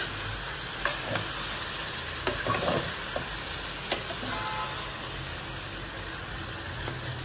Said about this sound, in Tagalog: ilagay ko na yung chicken, tapos haluin natin ng konti para yung mga lamas ay mahalo